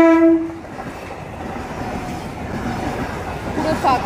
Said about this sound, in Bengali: পুরো ফাঁকা ট্রেন।